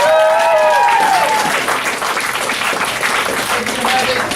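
The audience at a Dayton Quest Center graduation ceremony breaks into loud, sustained applause, with a high whoop or cheer rising over the clapping at the start.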